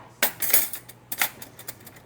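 A small metal spoon clinks against other cutlery in a kitchen, giving two bright clusters of rattling, jangling metal contacts followed by a few lighter taps, fairly close and alone.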